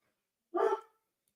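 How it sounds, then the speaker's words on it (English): A dog gives a single short bark indoors, moderately loud and fairly close, surrounded by silence. "Oh, the dog."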